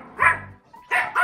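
A dog gives three short, loud, close barks while playing, each a sharp yip-like bark separated by brief pauses.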